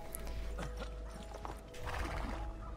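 Horse hooves clopping and a horse neighing in Assassin's Creed 2 on Xbox 360, over a steady low rumble of game ambience, fairly loud and close.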